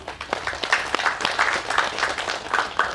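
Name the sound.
audience applause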